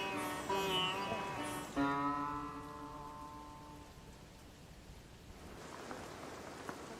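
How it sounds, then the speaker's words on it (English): Steady rain pours in a Sherpa village in the Everest region, a soft and fairly distant hiss. Some brief tonal sounds come near the start, then only the rain continues. "It's still pouring with rain."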